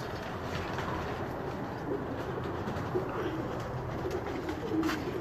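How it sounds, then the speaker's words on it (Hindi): Pigeons coo softly and continuously on a rooftop, low murmuring calls layered over a quiet outdoor background with no talk. "ये दिखाएं ना ज़रा, कबूतर दिखाएं।"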